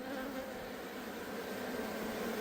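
Honeybees swarming around an opened hive, a dense continuous buzzing drone that stays steady and loud throughout, close by with no talk.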